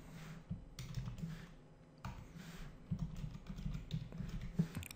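Code is typed on a computer keyboard in quiet, irregular bursts of close clicking and tapping keystrokes, with brief pauses between runs.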